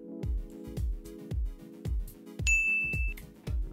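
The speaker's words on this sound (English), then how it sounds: "That's the notification." Home Assistant text notification chime on a phone, triggered by a Reolink camera; a single short bright tone rings out over a steady pattern of repeated low thumping beats, with no talking.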